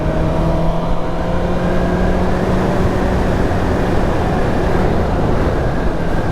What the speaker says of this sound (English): Can you hear the bike?